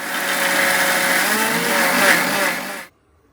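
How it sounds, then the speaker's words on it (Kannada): Mixer grinder whirring loudly as it grinds tomato, garlic, onion, green chili, coconut and chili powder into masala, a steady motor drone for nearly three seconds before cutting off abruptly into quiet. "ಟೊಮೊಟ, ಬೆಳ್ಳುಳ್ಳಿ, ಈರುಳ್ಳಿ, ಮೆಣಸಿನ್ಕಾಯಿ, ಕಾಯಿ, 1 ಚಮಚ ಖಾರದ ಪುಡಿ, ಇದು ಕೊತ್ತಂಬರಿ ಸೊಪ್ಪು ಎಲ್ಲ ಹಾಕಿ ರುಬ್ಬೇಕಿದೆ."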